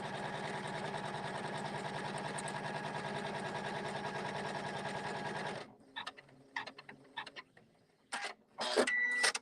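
A sewing machine stitches a seam line with a steady, fast mechanical whir for several seconds, then stops, leaving a few scattered clicks and handling noises close by.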